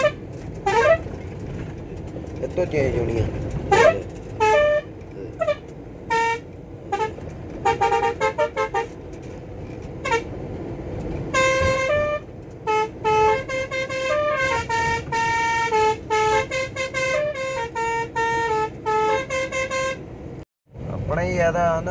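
Musical Volvo truck horn cycling through a series of melodic tunes, loud and close, with repeated rhythmic toots; someone talks over parts of it.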